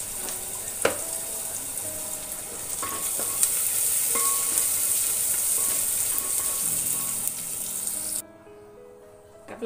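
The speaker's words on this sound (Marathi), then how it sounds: "तर कांदा लवकर तळावा म्हणून मी थोडस मीठ घालते जे कांदा लवकर तळून होईल" Onion frying in oil in a home kitchen, with salt added: a steady loud sizzle with scattered stirring clatters, the frying noise dropping away near the end.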